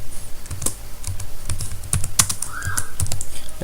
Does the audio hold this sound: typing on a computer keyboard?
yes